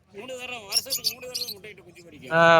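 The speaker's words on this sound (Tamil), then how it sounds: "இது பாத்தீங்கன்னா ஜாவான ஒரு குருவி பாருங்க" Java sparrow at a pet market in Simmakkal, Madurai, giving thin chirps and short calls close by, with a louder burst near the end, while someone talks over it.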